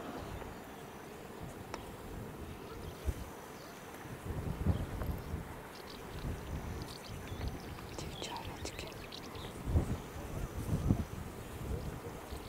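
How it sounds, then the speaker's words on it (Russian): Wind blows outdoors at the elephant grounds in Taigan, a steady rushing roar with buffeting gusts on the microphone and faint murmuring voices underneath. "Ветер"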